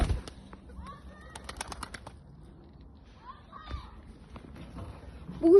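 A pigeon coos softly in short, faint calls against a quiet background, with a few light taps and rustles and a brief louder sound at the very end.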